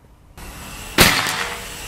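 A PCP air rifle from the Escobar series fires once on a range, a sharp close crack cutting through a low steady background hum, followed by a short faint echo.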